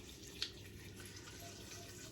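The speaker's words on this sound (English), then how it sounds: "And I'm still pouring it in." Water poured into an Instant Pot while making a healthy weight-loss soup, a faint steady trickle running throughout the short stretch with a small splash near the start.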